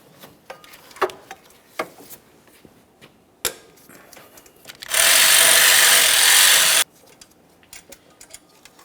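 A 12mm socket on a power tool loosens the lower alternator mounting bolt on a 2012–2015 Honda Civic 1.8L engine. Scattered clicks and knocks lead into about two seconds of steady, loud whirring, followed by more light tapping.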